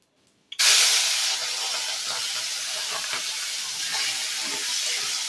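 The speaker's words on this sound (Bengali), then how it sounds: "এবার এখানে আমি চিংড়ি মাছগুলোকে ভেজে নেব" Marinated tiger prawns in a yogurt masala hit hot oil after a brief quiet, bursting into a loud sizzle that settles into a steady, close frying hiss with crackles, and no one speaks.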